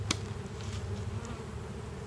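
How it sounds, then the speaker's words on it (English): Honeybees buzz steadily around the tops of beehives, a continuous close drone with individual bees passing near. "A lot of bees on the tops,"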